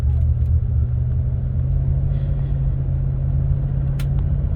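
A 2002 Land Rover Discovery II under acceleration, its engine drone steady and loud from inside the cabin, with a constant low rumble throughout and the transmission shifting smoothly without hesitation.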